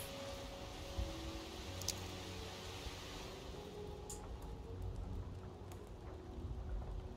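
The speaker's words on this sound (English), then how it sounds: "And it's raining" Steady rain in the Darkwood survival horror game, a soft continuous hiss with low rumbling beneath and a couple of faint sharp ticks, holding at an even moderate level throughout with no voices.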